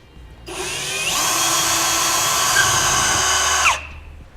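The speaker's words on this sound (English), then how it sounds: "we're going to come back with a 1/4 inch drill bit, and we're going to drill right into the center of our hole there." A power drill with a 1/4 inch bit bores into the center of a pilot hole in a Ram truck bed while a fifth-wheel hitch is installed. The steady whine starts at 0.5 s, rises briefly in pitch, holds, and cuts off near 3.7 s.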